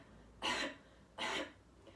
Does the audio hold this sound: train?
no